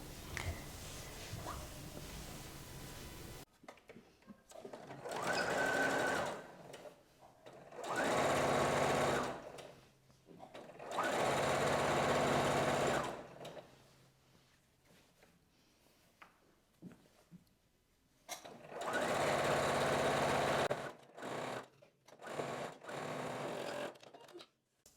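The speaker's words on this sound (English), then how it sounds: "I need to sew a straight line from the bottom up to the top to sew this down here" A sewing machine runs in several loud bursts, stitching a straight line on a button-up blouse with a big collar, each steady whirring run broken by short quiet pauses.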